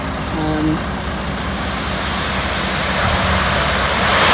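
A loaded dump truck at a chateau frontage drives in and tips a load of earth, a broad rumbling engine that swells into a steady, loud rushing roar as the soil pours out, with no talk.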